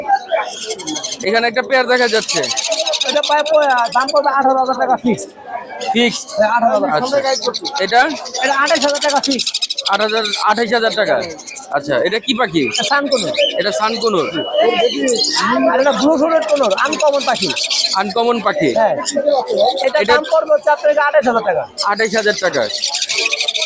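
Yellow-crowned amazon parrots at a busy bird market in Mirpur make chirps, squawks and coos, dense and close, while people talk continuously over the calls.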